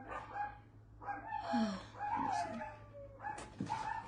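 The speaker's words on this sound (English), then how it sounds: "Sorry guys, those are my dogs in the background." Dogs barking and yipping in the background of a room, several overlapping barks and higher whining yelps in quick irregular succession, moderately close over a low steady hum.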